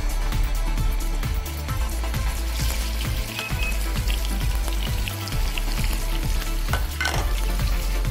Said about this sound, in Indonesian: Oke, kita akan pan fried salmonnya.